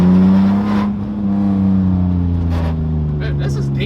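A BMW E36 with a full exhaust system idles and revs with a deep, steady droning tone close by, while people talk over it inside the car.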